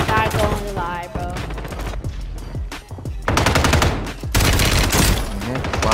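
Warzone gunfight with loud, close automatic weapon fire in rapid bursts, broken by short pauses, with game effects and a voice heard briefly between volleys.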